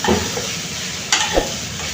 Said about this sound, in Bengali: পেঁপে ভাজি হতে সময় বেশি লাগে না